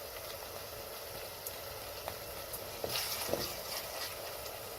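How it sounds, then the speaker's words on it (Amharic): Garlic and spices frying in a pot, heard as a faint steady sizzle with a few soft stirring scrapes and taps, close but quiet, with no talking. "እርዳችንም ቅመማችንም ነጭ ሽንኩርታችንም ጣዕሙን እንዲወስድ ለደቂቃ እናማስልና"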